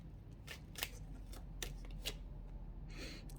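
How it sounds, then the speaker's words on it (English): Tarot cards being shuffled and pulled, soft quick riffling snaps and brief card slides, a handful of separate crisp flicks close by in a quiet room. "So let's get your 3 cards pulled."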